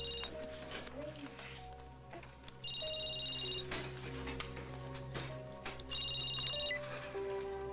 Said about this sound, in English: There's that new phone your daddy gave me.